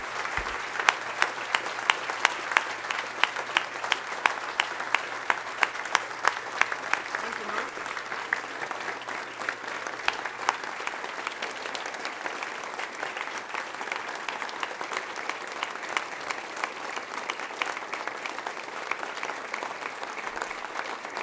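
Sustained audience applause fills a press-conference hall as Norm Asbjornson is welcomed to the podium for his gift to engineering at Montana State, dense steady clapping continuing for about twenty seconds with a few sharper claps near the start.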